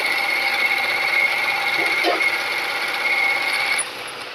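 A sewing machine stitching fabric for a baby frock runs steadily with a continuous whirring hum, close and fairly loud, easing off slightly near the end, with no talking.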